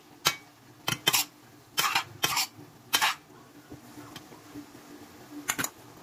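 A lid is set onto a cooking pot of carrots and beans, giving a few sharp clinks and clattering metal knocks in short bursts, close and fairly loud against a quiet background.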